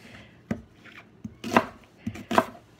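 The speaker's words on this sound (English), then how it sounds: "So like I've cut it in half and just cut it into, you know, just big quarters or whatever" A knife chops through an onion on a cutting board, cutting it into big quarters: four sharp, separate thunks spaced about a second apart, close and crisp, with quiet gaps between them.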